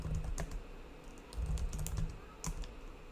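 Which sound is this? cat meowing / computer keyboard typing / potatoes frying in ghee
computer keyboard typing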